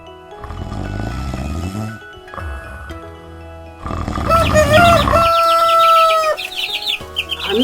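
A rooster crows at morning in a cartoon forest setting, preceded by lower clucking sounds; the long, loud, rising and falling call rings out clearly, followed by a few shorter clucks.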